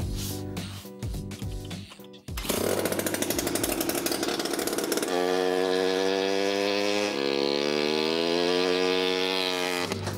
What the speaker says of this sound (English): Should we start up the scooter and let you guys hear it?